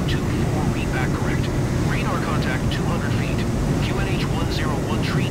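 Replay of an airplane landing in Microsoft Flight Simulator 2024, a constant broad jet and wind roar filling the clip, loud and unbroken, with someone talking over it.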